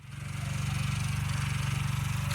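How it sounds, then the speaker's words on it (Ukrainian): A walk-behind tractor engine runs close by, a loud steady low throb with rapid even pulsing that holds for the whole stretch without pause. "Вибачаю за шум, поряд працює мотоблок"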